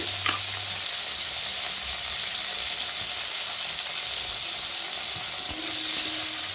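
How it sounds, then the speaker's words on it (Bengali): Onions fry in hot oil in a pan, producing a continuous close sizzle with an occasional stirring clink and scrape, and no one speaking. "পেঁয়াজ ভালো করে লড়াচাড়া করবো"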